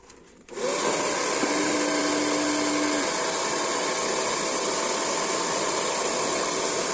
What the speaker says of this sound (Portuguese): Coloco aqui o bico do meu secador e ligo